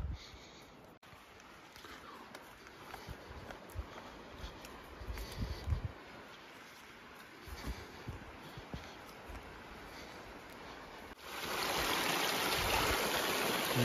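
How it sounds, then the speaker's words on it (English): Breccia Creek in Jasper National Park flows with a steady rushing wash of water close by, growing louder and brighter toward the end as it comes nearer. "This is all new water for that creek."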